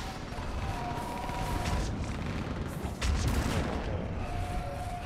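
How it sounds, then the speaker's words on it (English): Dense, continuous gunfire and fire support from a rooftop rage through a Mass Effect 3 battle, a loud unbroken barrage with heavier impacts near the middle and tonal game effects layered on top. "On that building, we've got fire support!"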